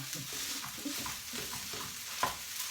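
Rice and shrimp are stir-fried in a pan, with a continuous sizzle under rhythmic scraping and tossing strokes from a spatula.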